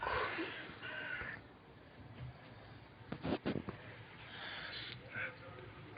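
Crow caws ring out near a home balcony, a couple of short harsh calls in the middle of a quiet stretch, with soft background noise and some faint talk.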